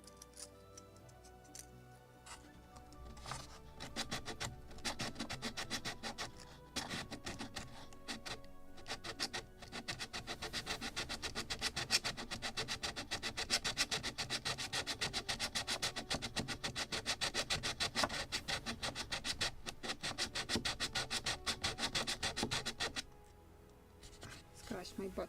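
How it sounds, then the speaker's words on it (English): Dense, rapid scratchy rubbing of sandpaper on the wooden deck planks of a model of the 1776 gunboat Philadelphia, close and continuous strokes with short pauses, under occasional quiet talk. "I need to sand them."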